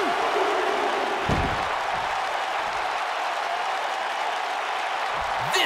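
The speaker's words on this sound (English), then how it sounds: "There's still the live crowd here" A simulated arena crowd in the WWE 2K19 wrestling video game keeps up a steady wash of applause and cheering. It stays broad and constant throughout, with a few low thuds and no clear talking.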